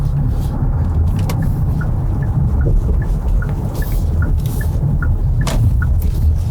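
Cabin drone of a 2026 Hyundai Ioniq 9 electric SUV cruising in Eco mode, a steady low road and tire rumble with faint ticks and clicks over it, no voices.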